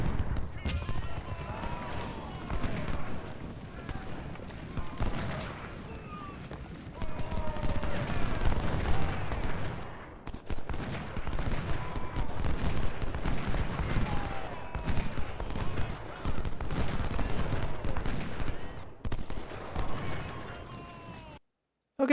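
Cannon and gunfire roll through a First Winchester battle in the video game Ultimate General: Civil War. Repeated booms and crackling volleys keep coming, with voices in the mix and a brief drop near the end.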